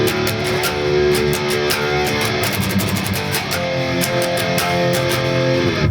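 Distorted electric guitar chugs palm-muted picked notes in a dense metal riff, rapid strikes broken by open ringing notes, loud and continuous with no voice.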